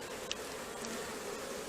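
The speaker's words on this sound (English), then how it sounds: "these are nice black bees" Dark-coloured black honey bees hum at an open hive during an inspection, a steady close drone with no voices, a couple of faint sharper buzzes standing out briefly.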